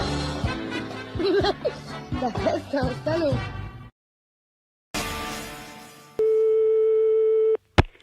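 During a French prank phone call, a telephone tone sounds after chatter and laughter: a brief silence, then line noise and a loud steady tone for over a second, ending with a sharp click.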